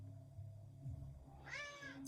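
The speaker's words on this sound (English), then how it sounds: "My cat is talking to me." A house cat meows once in a rising, harmonic call near the end, following a quiet stretch of low room noise; the meow is fairly close and clear.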